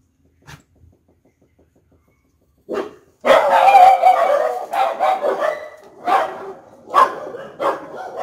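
A litter of puppies barks and yips at close range, with several loud overlapping barks and whimpers coming in bursts after a quiet start.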